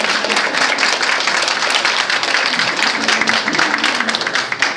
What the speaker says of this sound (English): can we give our parents another round of applause?